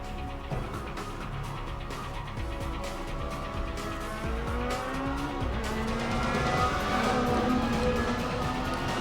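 A car races through traffic in Need for Speed: Most Wanted (2005) in Rockport City, its engine droning steadily with rising revs, tire squeals and other vehicles passing.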